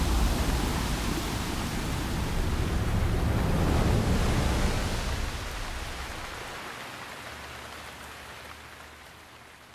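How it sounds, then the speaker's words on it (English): Water gushing from the Divine Beast Ruta in Breath of the Wild, a broad loud rushing roar that holds steady and then gradually eases and fades toward the end. "The water spouting from Ruta has slowed down"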